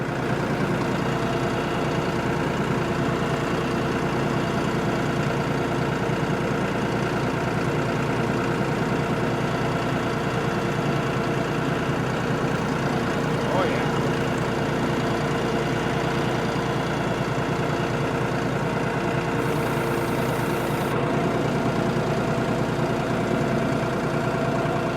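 A tractor engine runs steadily at a low, even idle-like drone while crushing black walnuts, a continuous rumble that never lets up, with no voices over it.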